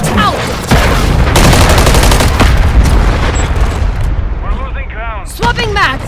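Semtex grenade blasts and gunfire in a Call of Duty multiplayer match, a loud dense stretch of booming bursts and rapid shots under clipped game voice callouts and radio chatter.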